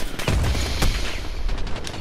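Rapid bursts of automatic gunfire from a heavy-recoil rifle in the Call of Duty Modern Warfare campaign, with sharp close shots and dense overlapping reports running through the whole short stretch.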